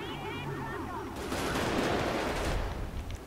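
GTA V roleplay gunshots erupt as a sudden, heavy volley of rapid automatic fire after a quieter opening, sustained and loud, with a faint voice underneath at the start.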